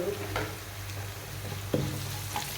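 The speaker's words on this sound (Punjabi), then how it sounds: "ਹੁਣ ਆਪਾਂ ਅਦਰਕ ਜਿਹੜਾ ਉਹ ਵੀ ਨਾਲ ਪਾ ਦਿੰਦੇ ਆ" Ginger frying in a pan for a kadhi curry, a steady low sizzle with a couple of brief stirring scrapes, close and alone.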